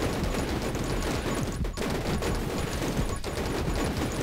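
Shotgun fire in the video game 20 Minutes Till Dawn: dense, continuous bursts of rapid gunshots fill the whole span at steady loudness, with no pauses between them.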